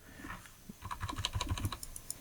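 Computer keyboard keys tapped in a quick, uneven run of light clicks while switching tools in Photoshop, close and fairly quiet, no voices.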